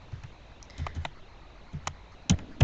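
Sparse typing on a computer keyboard, a handful of distinct close clicks and key taps in irregular bursts over a quiet background.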